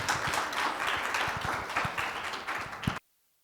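Audience applause welcoming a speaker at a university religious inclusion symposium: dense, steady clapping from a crowd that lasts about three seconds and then stops abruptly.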